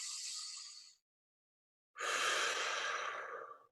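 Two slow, audible breaths taken near the microphone, one fading out and then a longer, louder one after a pause of silence.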